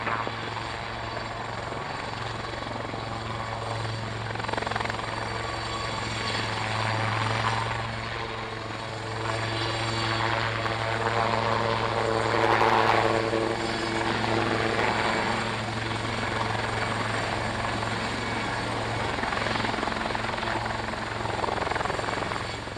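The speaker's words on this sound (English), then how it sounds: "we haven't played you any aircraft apart from LT Viper Pilot's Blue Impulse just there" Aircraft at Fairford airfield from a DVD recording, a loud sustained engine drone with a rotor-like throb that swells and fades and stays continuous for over twenty seconds.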